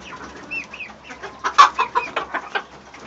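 Chickens cluck and chatter in short bursts close by, a rooster-like voice among them, with no crowing call.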